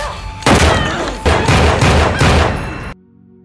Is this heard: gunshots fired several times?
yes